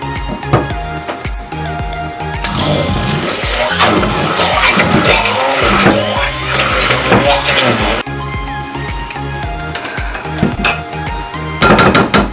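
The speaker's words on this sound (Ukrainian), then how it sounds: "Збиваємо це все погружним блендером." An immersion blender whisks cherry cake cream with chilled ingredients, a loud continuous motor whir with rattling, surging louder in the middle stretch before settling back.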